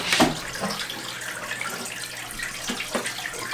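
Tap water runs steadily into a sink while a cobra's water dish is cleaned, a close, continuous splashing hiss with a few brief knocks of the dish and no talk.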